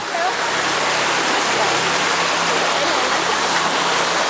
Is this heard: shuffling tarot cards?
no